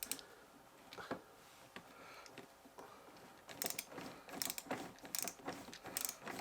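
A fastener being tightened on the A-post panel of a Lotus Elan M100: quiet ratcheting clicks, sparse at first, then faster bursts of close mechanical ticking.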